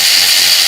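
A 16-volt cordless long-neck ratchet spins with a loud, steady, high whine heard close up, unbroken through a brief burst.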